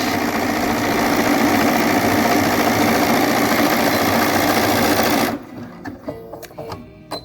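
A Bernina 770 sewing machine stitches a decorative pattern with a fast, steady mechanical whir for about five seconds, then stops, leaving a few soft clicks and handling sounds.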